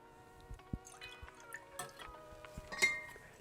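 Fresh lime juice and simple syrup are poured for a rum cocktail, heard as faint, close trickles and drips with a few light clinks of glass, with no voices.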